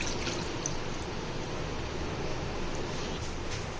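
A cup of water poured into a pan to start a sugar syrup for sweet bread, a steady, dense splashing stream heard close and alone at an even level throughout.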